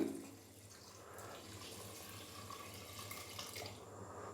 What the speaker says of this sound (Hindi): अभी मैं इसके अंदर पानी डाल दूंगा।